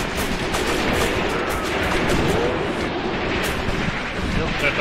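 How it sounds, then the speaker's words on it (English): Mortar rounds of 5 cm calibre fire and burst in the WWII tactics video game Graviteam Tactics, heard as a dense, continuous roll of distant gunfire and explosions with no single clear impact standing out. "That was the 5 cm mortars, I think."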